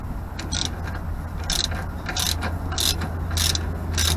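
An extendable half-inch Harbor Freight ratchet working on a bolt, its pawl clicking in short, regularly spaced bursts over a steady low hum, close and clear with no speech.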